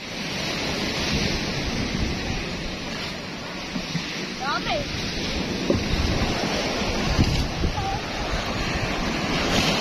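Big waves wash over the boat Matepo at a river mouth, a loud, steady roar of surf and wind close by, with a brief spoken word and a few faint shouts over it.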